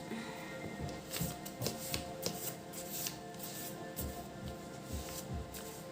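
Small handmade tarot cards being shuffled by hand, a run of soft, quick riffling and flicking sounds repeating unevenly at close range with no talk.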